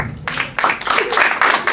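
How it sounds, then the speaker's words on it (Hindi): An open mic comedy audience breaks into applause in short, uneven bursts of clapping with brief dips between them, loud and close. "चलिए एक बार जोरदार तालियां।"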